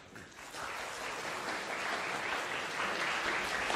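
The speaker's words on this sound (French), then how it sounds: "qui se demandent c'est quoi tous ces rires, c'est quoi tous ces applaudissements" Audience applause during an anime convention interview, a steady, dense wash of clapping that swells slightly after the first half second and holds loud throughout, with no talk over it.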